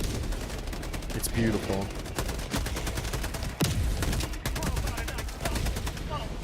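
Napalm barrage explosions and rapid gunfire in a Warhammer 40,000 World Eaters video game, dense bursts of shots and blasts layered continuously, with a voice briefly speaking over the din.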